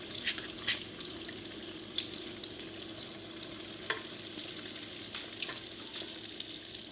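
Steady crackling sizzle of custard-filled doughnuts (ponchiki) frying in hot oil, continuous throughout with scattered sharp pops and spits, fairly close and moderately loud.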